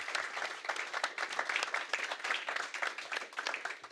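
A room full of listeners applauds at a business event, a dense, even burst of clapping lasting a few seconds with no voices over it.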